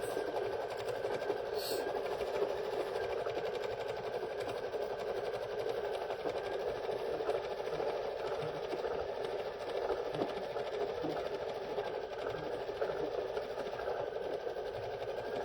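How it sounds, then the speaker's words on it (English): A computerized quilting machine stitches a quilting pattern across the top of a wallflower quilt with a continuous, even mechanical drone and hum that holds steady at moderate level throughout. "now it is going to do the quilting on top, which takes 4 minutes"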